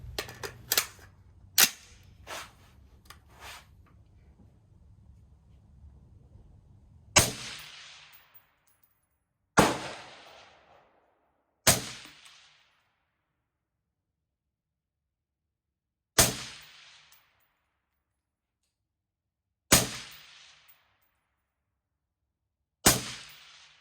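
An Aero Precision 16-inch rifle fitted with a Dead Air Sandman S suppressor fires Winchester white box 55 grain rounds in about ten sharp, isolated cracks. Several come quickly at first, then single shots follow at spaced intervals, each with a short decaying tail.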